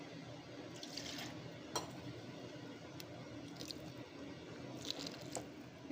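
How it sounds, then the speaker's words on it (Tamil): Water is poured and swirled to rinse a mixer grinder jar of ground masala into a cooking pan, giving soft continuous splashing and squishy liquid sounds with a few brief drips and clinks, close by and with nobody talking. "இதை ஜாரை மட்டும் அலம்பி விட்டுக்கிறேன்."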